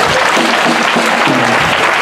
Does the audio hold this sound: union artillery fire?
no